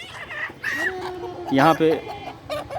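Roosters on a small integrated farm, kept above a fish pond, clash with quick harsh clucks and squawks in short bursts at close range, with a voice briefly heard alongside.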